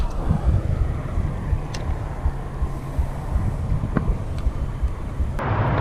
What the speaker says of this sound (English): that wind was punishing to cast into